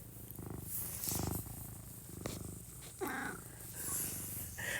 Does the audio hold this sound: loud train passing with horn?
no